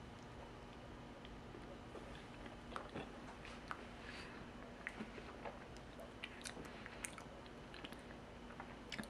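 Raw honeycomb being chewed close up, soft wet squishy mastication with small sticky clicks and crunches of wax repeating steadily, quiet and alone with no talking.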